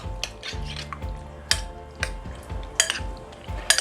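Garlic and tomatoes being stirred together in a bowl for bruschetta, with a utensil knocking and clinking against the bowl in an even rhythm of strokes, close up and without any talk.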